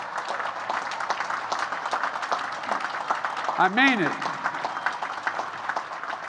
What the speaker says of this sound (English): So midshipmen, stand up and clap for them.